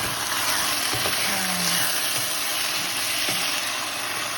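Meatballs and tomato rice fry in a pan with a steady, dense sizzle and bubbling hiss throughout, a few faint knocks breaking the even crackle.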